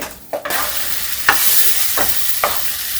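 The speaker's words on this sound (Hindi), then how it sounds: "अभी थोड़ा और हम भूनेंगे मसाले को" Masala for dhaba-style aloo do pyaza sizzles and fries in a pan while a spoon stirs it, with a few distinct scraping strokes over a steady close sizzle.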